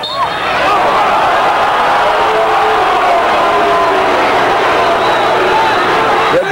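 A packed arena crowd at a 1992 college basketball game roars continuously and loudly, a dense wash of cheering and shouting that holds steady throughout.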